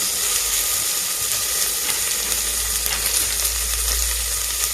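Cinnamon, cloves, onion and tomato fry in hot oil for vegetable pulao, a continuous loud sizzle with faint stirring scrapes and a low background hum, with no talk.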